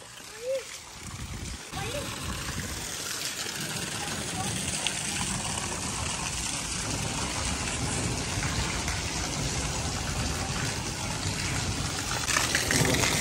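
Rainwater runs through a brimming village drain after heavy rain, a steady rushing wash heard nearby with small splashes throughout, and someone talks over it.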